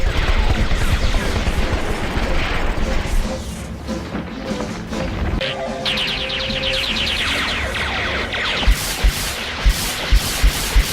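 Laser gunfire in a Transformers Generation 1 cartoon, a run of loud zapping shots over rumbling noise, followed by a rapid series of sharp bursts near the end.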